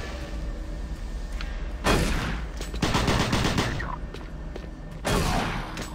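Enemies in Doom 3 on Xbox 360 fire in bursts, loud bursts of gunfire landing at intervals with quieter stretches of game ambience between them.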